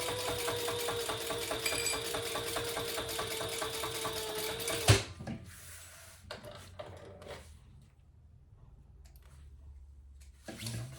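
A sewing machine topstitches fabric an eighth of an inch from the edge, whirring in a steady close run for about five seconds before it stops, followed by faint handling clicks and rustles.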